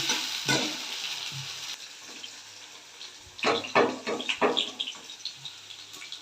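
Potatoes frying in oil in a pan, a continuous close sizzle with a cluster of louder stirring scrapes and clatters toward the end, no one talking.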